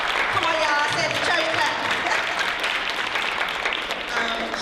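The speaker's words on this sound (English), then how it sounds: "Y'all give her a hand" An audience applauds at a church-hosted health and fitness event, a broad steady wash of clapping lasting throughout, with voices and cheering mixed into the crowd noise.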